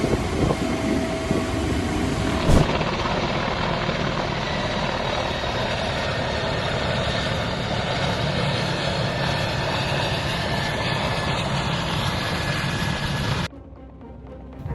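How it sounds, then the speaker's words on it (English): Mi-171A2 helicopter running with a steady, loud engine and rotor drone that holds evenly for most of the stretch, a brief knock near the start, then cuts off abruptly near the end. "An aviation incident with a Mi-171A2 helicopter"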